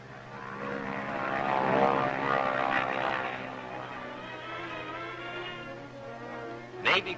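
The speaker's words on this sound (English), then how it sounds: "Army C-47s load up on Aslito Airfield for Honolulu" Army C-47 propeller transport planes loading up on Aslito Airfield, Saipan, in 1944, with a steady droning engine roar that swells and eases, and a brief sharp clatter near the end.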